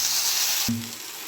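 Ginger-garlic paste frying in a pan over low gas for a quick okra curry, a faint hiss that is cut off by a short thump partway through, with no voices.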